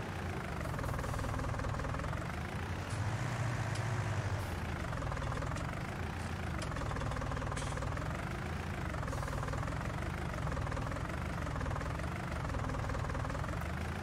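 Tractor engine idling at close range, a steady low rumble with a rhythmic knocking pulse throughout, no talk.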